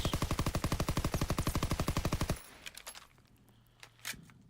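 Rapid automatic gunfire from a WW2 video game, a loud sustained burst of evenly spaced shots that stops abruptly, followed by a few faint scattered shots and distant clatter.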